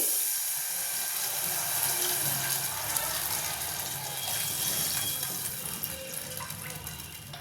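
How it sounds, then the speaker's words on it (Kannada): A steady hissing rush of water pours for several seconds into a pot of rice, about three cups, continuous and fairly close, with a faint bubbling undertone. "ಮೂರು ಕಪ್ಪು ನೀರು ಹಾಕ್ತಾ ಇದ್ದೀನಿ"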